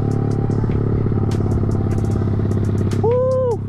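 A Yamaha Vixion motorcycle bored out to 195cc roars loudly and continuously up close as it is ridden fast, its engine drone steady, and a short tonal swoop rises and falls near the end.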